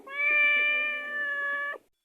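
A cat gives one long, loud, drawn-out meow up close, lasting nearly two seconds and then stopping abruptly, with no other sound around it.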